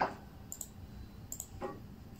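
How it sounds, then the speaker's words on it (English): A computer mouse being right-clicked on a PC, a few faint sharp clicks spaced apart over a quiet background, with no talking. "you just right click here, right click,"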